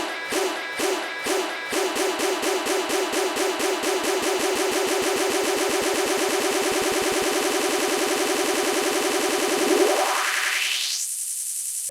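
Continuous electronic dance music with a steady pulsing beat, ending in a rising sweep as a DJ blends the track out using the jog wheel; no voices.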